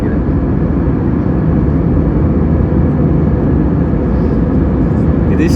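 Airliner cabin just after takeoff from Kathmandu, Nepal: a loud, steady roar of jet engines filling the clip evenly from start to finish, with no voices.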